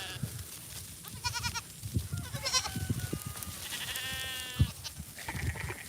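Goats on a farm bleat loudly and repeatedly during morning chores, with several wavering cries overlapping nearby and rustling and footsteps beneath.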